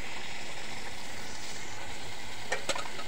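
Spice paste with tomato paste frying in a pot for chicken curry, a faint steady sizzle with a couple of brief scraping stirs near the end.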